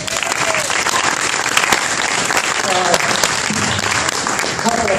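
An audience applauds at a kitchen dedication event, a dense, loud, steady burst of many hands clapping that fills the whole stretch, with faint voices mixed in.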